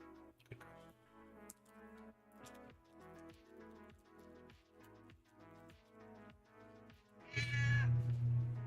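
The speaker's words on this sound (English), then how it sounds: "If you can hear that, that is my cat who is on the table." A pet cat named Zoe meows on a table, a few short calls rising over steady music-like background sound, with a louder, close burst near the end.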